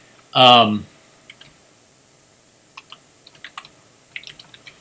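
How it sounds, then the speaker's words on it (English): Sparse, light clicks of typing on a computer keyboard follow a brief spoken word, the keystrokes coming in small irregular bursts close by. "I'm typing in the name of the film as we talk"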